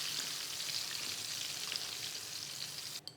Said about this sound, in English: they're sizzling away, they all get that oil sort of heating up or sealing the meat and that batter immediately